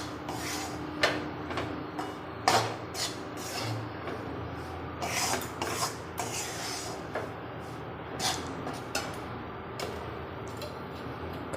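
Wheat flour roasting on a low flame while it is stirred in a pan for Gujarati sukhdi, giving irregular dry scraping and rasping strokes with light ticks and taps. The strokes are close and moderately loud, with no voices.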